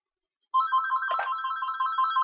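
A phone ringtone plays as a steady, bright electronic melody for about two seconds, loud and close, with a brief click partway through and no voices.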